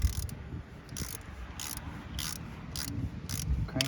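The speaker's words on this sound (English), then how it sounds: "We're going to use our ratchet to start with, and we're going to tighten that down until it stops" A ratchet tightens the oil drain plug on a 2002 Pontiac Grand Am SE 2.2, giving six or seven evenly spaced bursts of close, dry clicking separated by brief quiet pauses.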